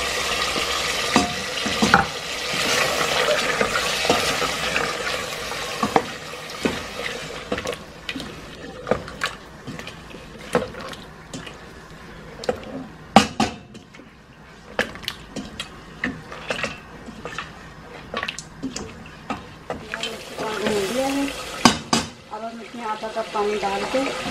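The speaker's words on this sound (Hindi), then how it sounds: "दही डाल के इसे भून लेंगे अच्छी तरह" Meat sizzles in a pan with garam masala and yogurt as it is fried and stirred for an Eid ul-Adha dish, a steady hiss broken by frequent scraping and clattering of the spoon, close up, with occasional talk.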